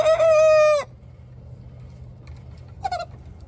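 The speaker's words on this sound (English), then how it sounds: "That's the red chicken that's crowing, by the way." A red rooster crows once, loud and close, a long harmonic call lasting under a second, followed by a short clucking call from a hen nearby over low steady background hum.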